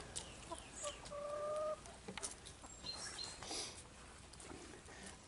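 Hens cluck softly in a backyard poultry yard, a few short calls and one drawn-out note rising over faint outdoor background noise, distant and quiet.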